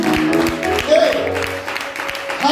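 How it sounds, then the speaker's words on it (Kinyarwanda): A church congregation claps together during a service, loud and close, with steady rapid applause under a voice speaking over it. "Komera Yesu amashyi."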